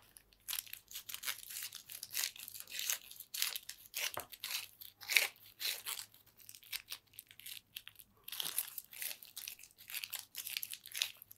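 Plastic bag yarn (plarn) is wound tightly into a ball, giving a close, irregular run of crinkling and rustling bursts that stop and start, with no voices.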